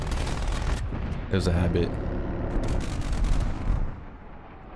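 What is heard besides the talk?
gunshots in the video game Black Ops Cold War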